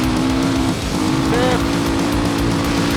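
A dirt bike with bald tires racing flat out in Baja, its engine droning loud and close with a brief dip at a gear change before the tone climbs again, buffeted by steady wind noise.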